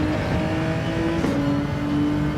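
A Gr-class race car at Fuji in Gran Turismo 7 holds its engine near the rev limiter, making a loud, sustained, buzzing whine that wavers slightly as the revs shift. No voices are heard.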